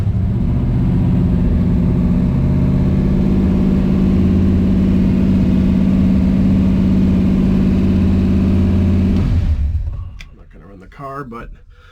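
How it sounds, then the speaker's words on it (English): The engine of a 1966 Ford Galaxie runs at a steady, loud idle with a deep rumble for about ten seconds, then cuts off, leaving faint rustling and a few clicks. "We'll start up the car next."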